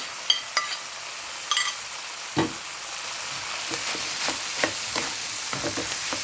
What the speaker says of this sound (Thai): คนเครื่องให้เข้ากับไข่กับคุณเคียงก่อนเลยนะเจ้า